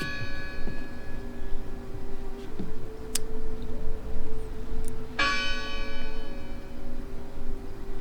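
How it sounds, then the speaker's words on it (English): A bell tolls in the horror game Draugen: two clear strikes a few seconds apart, each with a long ringing tail over a steady low ambient drone. "I heard the bell."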